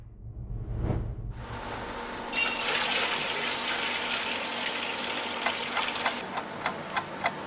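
An aquarium air bubbler turned up high in a tank of water prepared for clownfish, giving a steady, close bubbling hiss with faint ticking pops that begins after a brief low rumble and runs on without talk.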